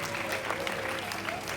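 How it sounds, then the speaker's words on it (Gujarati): Strong applause from an audience at a community event in Leicester's Ramgarhia Community Centre, a dense, steady burst of clapping that fills the whole moment with a faint crowd murmur underneath. "તો એવી બહેનો માટે જોરદાર તાળી થઈ જાય"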